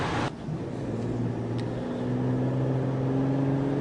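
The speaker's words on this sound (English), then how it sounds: "the car shifts nicely and gives a good amount of sound and engine feel" A VW Touareg engine hums from inside the cabin while driving, a steady mid-pitched drone with a brief shift at the start, then rising gently in pitch as the car accelerates.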